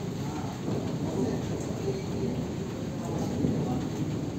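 Steady rain falling, a dense continuous patter and rush that holds even throughout, fairly loud and close.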